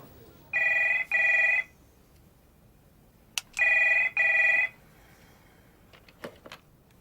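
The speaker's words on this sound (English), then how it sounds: "one of Rakedale Security's employees received a phone call from work" A telephone rings in two bursts of double rings, loud and close, followed by a faint click and a few soft knocks.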